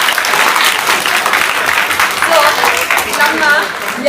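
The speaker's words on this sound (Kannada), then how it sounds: "ಚಪ್ಪಾಳೆ ಹೊಡಿರಿ ಸರ್ಗೆ" A crowd at a school uniform and bag distribution event in Chintamani claps for a man, broad sustained applause with a few voices calling out over it.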